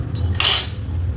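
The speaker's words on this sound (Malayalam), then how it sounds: "അത് നമ്മളെടുത്തൊരു പാത്രത്തിലേക്ക് ഇടുകയാണ്." A protein dosa is set onto a plate, giving one sharp, close clatter of dishware lasting a fraction of a second over a low background hum.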